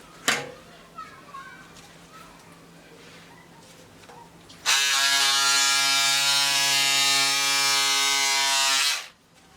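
An electric cutter buzzes through fabric while cutting out the back neckline of a dress pattern. After a sharp click and a few seconds of quiet, a loud, steady motor drone runs for about four seconds, then stops.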